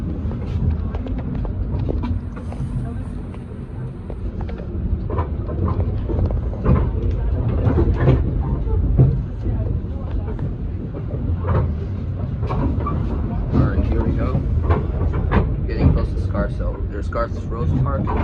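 Steady rumble and rhythmic clatter of a Kawasaki M8 commuter train rolling on rails on the Harlem Line, heard from inside the carriage, with faint talk in the background.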